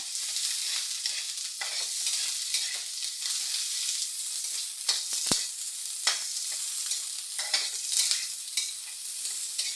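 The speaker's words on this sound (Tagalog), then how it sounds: "gisa lang natin yan ng mga ilang seconds" Onion, ginger and garlic sautéing in a pan for egg curry, a continuous hissing sizzle with intermittent spatula scrapes and a few sharp clicks, alone without voices.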